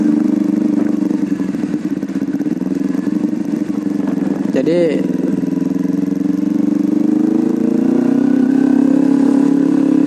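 A motorcycle rides slowly through Pangkal Pinang city traffic toward a bridge, its steady mid-pitched engine drone running close and continuous throughout while someone talks over it.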